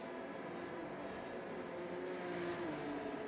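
Race car engines in F1 22 at Zandvoort, with a McLaren spinning donuts, drone steadily and fairly loud, with a rising whine near the end.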